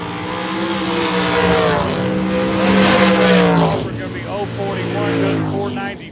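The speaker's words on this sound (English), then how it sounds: "Here he is in a dragster." A dragster launches down the strip at Alabama International Dragway, its engine roaring up in rising pitch, then easing off before another climbing run, loud and close, with an announcer talking over it.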